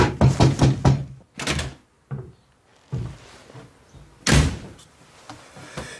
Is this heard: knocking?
yes